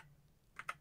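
A few quick keystrokes on a Mac keyboard entering a terminal command, faint soft taps clustered at the end after a near-silent start.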